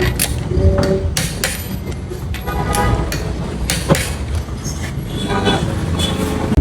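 Bolts are torqued with clanks and ratcheting clicks after a car is lowered in an auto shop, while the car is being checked for a tok sound when braking. The metallic impacts are dense and close over a noisy background.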